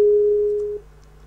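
A Skype ringing tone while calling a friend: a single steady electronic tone that holds loud for under a second, then cuts off abruptly, leaving near silence.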